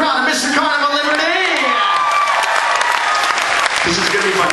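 Loud audience applause with cheering and whoops fills a cruise ship welcome show on the Carnival Liberty during a crowd vote, with a voice calling out over the dense clapping.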